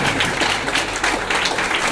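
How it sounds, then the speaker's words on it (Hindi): An audience at a business motivational event applauds Diamond Club achievers, a dense, sustained wash of many hands clapping at steady loudness throughout, with faint crowd murmur. "एक बहुत जोरदार तालियां बजा दीजिए आप"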